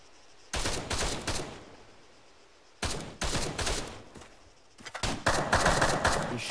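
Bursts of gunfire aimed at the player in the military shooter Arma 3, three loud rapid volleys of shots with short quiet gaps between them and no talking.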